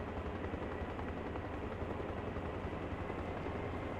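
Helicopter flying low in the military video game Arma, a steady dense rotor and engine drone that holds at even loudness throughout without speech.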